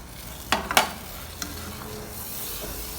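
A spoon stirring green cardamom powder and spices in a pot of pulao stock, with a few sharp scraping clinks early on over a low steady sizzle.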